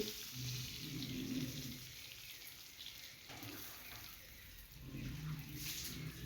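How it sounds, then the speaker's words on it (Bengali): Eggplant slices frying in hot oil in a pan, giving a steady soft sizzle and crackle with gentle swells, close and fairly quiet, no talking. "বেগুনটাকে আমি এইভাবে ভেজে নিচ্ছি"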